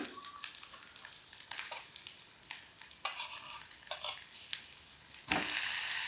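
Chopped tomatoes hit a hot pan and sauté with a soft, steady sizzle while a spoon scrapes and stirs in repeated strokes, ending in a sudden louder hiss; close, with no voices.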